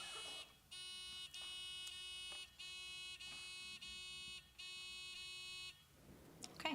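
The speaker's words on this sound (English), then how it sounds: "Test your buzzers." Quiz buzzers being tested at a middle school knowledge bowl, sounding in a run of short, steady tonal bursts, one after another, with brief gaps between them in a quiet room.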